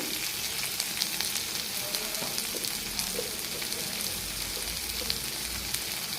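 Slices of pointed gourd (potol) frying in oil, a steady moderate crackling sizzle with small scattered pops, continuous and without speech.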